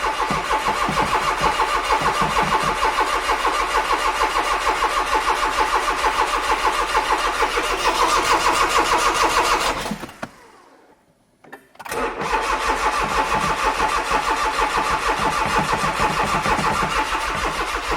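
Smart Roadster that sat for two years, engine cranking over and over with a rapid whirring starter rhythm, loud and close; it cuts out briefly, then the cranking resumes.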